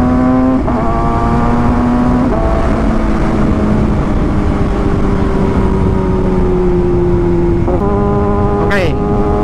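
A 2022 Kawasaki ZX6R motorcycle pulls hard through the gears, its engine note climbing steeply then dropping sharply at each quick-shifter upshift, about three clean shifts in a loud, continuous run close by.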